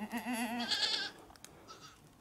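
A large Kula Honamlı goat in Antalya bleats loudly and close for about a second with a wavering, quavering call, then falls quiet apart from faint rustling.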